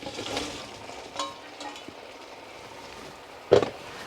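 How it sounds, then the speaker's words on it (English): Potatoes and cauliflower land in a pan with masala, bringing a soft frying sizzle with a few scattered thuds and scrapes and one sharper clatter near the end. "I'm now just going to throw in my potatoes and my cauliflower as well"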